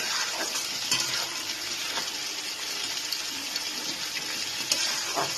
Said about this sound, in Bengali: এইবার এই মশলাটাকে আমি ভালো করে কষিয়ে নেব